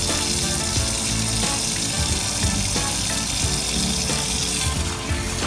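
Romaine lettuce rinsed under a running tap, a steady close splashing and hiss of water that continues without a break and rises briefly near the end.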